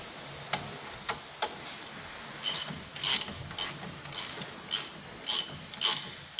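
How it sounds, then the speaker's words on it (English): A 15mm wrench working a shock absorber bolt loose on a Ford Fusion, sounding as a series of sharp ratcheting clicks and scraping metal turns, close and fairly quiet, with no talking. "We use 15mm key to open the bolt."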